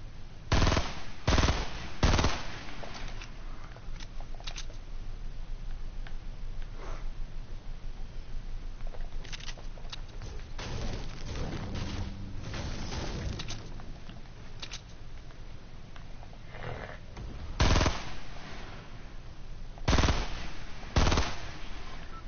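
Gunfire in a battle royale video game, sharp bursts of rapid shots recurring across the stretch over a steady background hum, close and loud, with no voices.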